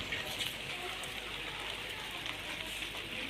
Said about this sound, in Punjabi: ਇਹ ਕੱਪੜੇ ਤੋਂ ਤੁਹਾਨੂੰ ਪਤਾ ਲੱਗਣ ਡਿਆ ਕਿ ਬਾਰਿਸ਼ ਤੇਜ਼ ਹੋ ਗਈ ਹੈ